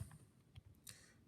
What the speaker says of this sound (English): So next, you type this equation in.